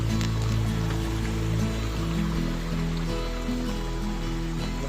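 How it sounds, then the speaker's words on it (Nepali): A jungle stream flows near a village power-house water channel, a constant close rushing babble with steady low rumble running the whole time, no voices over it. "खोला खोला"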